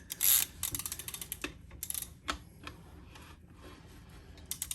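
MacPherson coil spring compressor on a Subaru strut being tightened, giving quiet repeated mechanical clicks and ratcheting ticks with a louder clank near the start, alone without talk.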